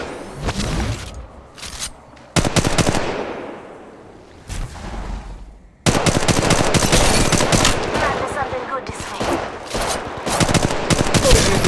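Bursts of automatic gunfire and explosive booms in Apex Legends Mobile, loud and close, with short silent gaps and then a long dense stretch of shooting.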